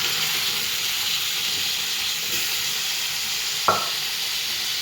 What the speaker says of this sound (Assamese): ইয়াত সিজাই থোৱা মই বুটখিনি দি দিছোঁ।